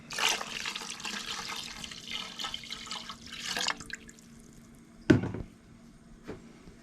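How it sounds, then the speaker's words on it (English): Seafood stock and water splash and pour into a pot in uneven bursts, then stop; a single sharp clink follows near the end. "I'm going to pour the rest of the seafood stock in"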